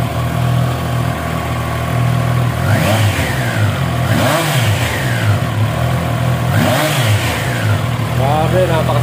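A 2023 Triumph Trident 660 naked sports motorcycle idles, then is revved several times in sharp blips, each climbing and falling back, loud and close with a steady idle between.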